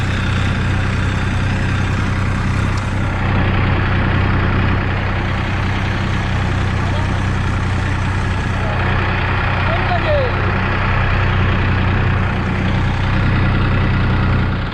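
A tractor engine rumbles steadily from close by for a rider on board, a loud, continuous low drone with no break, and people talk over it.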